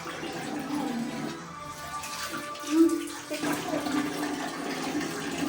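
Water pours steadily from a broken shower in a home bathroom, a broad continuous splashing rush with voices talking over it.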